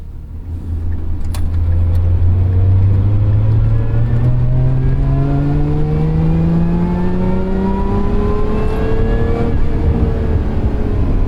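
A 2023 Lotus Emira sports car engine in Sport mode revs up steadily and loudly from low to high pitch in one long sustained acceleration, with a rising exhaust drone.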